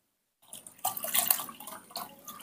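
Warm water poured into plain bath water for a baby's betel leaf herbal bath, a close splashing and trickling pour that starts after a short silence and runs steadily with uneven surges.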